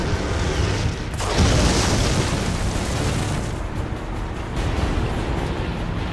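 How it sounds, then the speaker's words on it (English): A mine blasts in a sudden roaring explosion that swells into a sustained, dense rumble and rolling debris noise, loud and enveloping, with no voices. "3-second delay to let us get away from the explosion"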